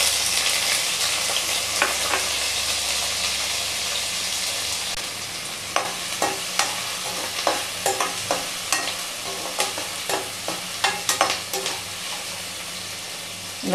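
Chopped onions sizzle and fry in hot oil in a pan, a steady loud hiss with repeated sharp clicks of a spoon stirring against the pan in the second half.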